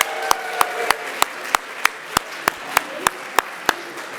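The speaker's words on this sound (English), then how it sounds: "give yourselves and your classmates a humongous round of applause right now" The Class of 2024 applauds at their charge-to-the-class ceremony: sharp, evenly spaced claps from one nearby pair of hands keep a steady beat over softer, scattered clapping from the crowd behind.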